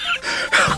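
Two quick, close coughs from a man in a TV news-style segment, sharp and loud, the second slightly harsher.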